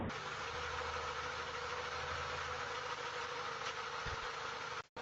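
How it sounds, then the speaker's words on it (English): A loud car engine idling behind a house: a steady low rumble with a faint knocking pulse, heard at a distance through a doorbell camera, cutting off abruptly at the end. "That car is pretty loud."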